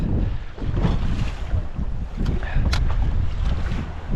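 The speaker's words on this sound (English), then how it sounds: "It's a lot windier out here than it was supposed to be." A strong north wind blows offshore across a fishing boat out snapper fishing, a loud steady roar buffeting the microphone, with sloshing water and faint creaks beneath.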